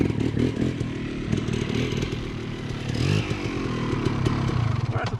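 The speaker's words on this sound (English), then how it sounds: "hit the log, give it second blip on throttle, and just go over it" A dirt bike engine rumbles and surges as the rider blips the throttle to ride over a log, with mechanical clatter and scraping mixed into the steady, fairly loud engine drone.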